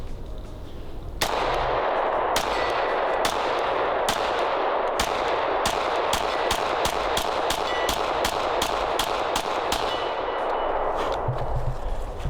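Rapid series of pistol gunshots from a Shadow Systems DR920 and a Glock, about fourteen loud sharp reports in quick succession with steady ringing range noise between them and no talking.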